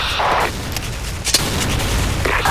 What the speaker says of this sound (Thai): คว้างระเบิดไปแล้ว